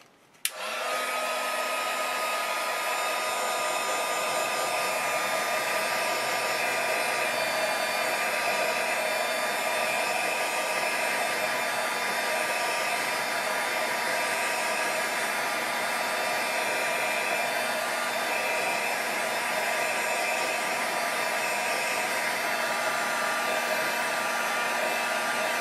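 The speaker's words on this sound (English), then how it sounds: "Okay, so I'm going to use my heat gun to dry this up." A heat gun blows hot air to dry a piece for a craft mini album, a loud, constant whooshing roar that starts abruptly and runs steadily without pause.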